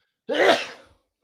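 A single sharp human sneeze bursts out close and loud, then trails off quickly into silence.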